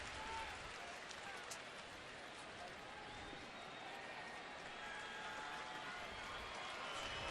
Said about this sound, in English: the Saturday night crowd here in downtown Cleveland getting behind Fausto